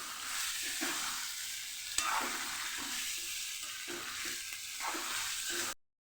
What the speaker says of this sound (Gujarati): હળવેકથી ઉમેરવાનું, ઉડે નહીં એવું ધ્યાન રાખવાનું અને સરસ આપણે મિક્સ કરી લેવાનું।